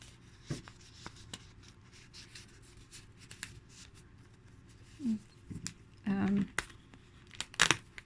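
Wrapping paper handled and crinkled during a bird-themed junk journal flip-through, with brief rustles and a louder crinkling burst near the end, close and otherwise quiet.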